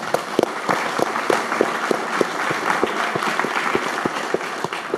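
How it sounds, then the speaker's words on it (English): A crowd of investors at an interview event claps together, sustained applause with distinct individual hand claps near the front, steady for several seconds. "give yourselves a round of applause"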